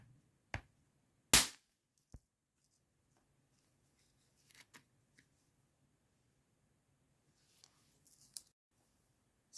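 A spring-loaded missile launching from a Dinky Toys UFO Interceptor toy, a few sharp plastic clicks and snaps, one notably louder, separated by near silence with faint handling noises.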